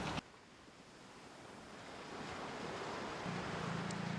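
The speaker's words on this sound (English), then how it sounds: "although the wind is picking up a little bit" Wind blows over waves along the coast near Selang Beach in Bali, a steady broadband rush of surf and wind noise that builds slightly toward the end, with no voices.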